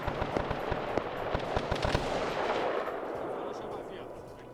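A weapon blast in a military video game, heard as a quick string of sharp bangs that swell into a rumbling boom and then fade slowly.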